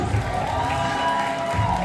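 A graduation ceremony audience cheers and applauds as a graduate is called onto the stage, with a continuous crowd roar, scattered whoops and clapping mixed together at close range.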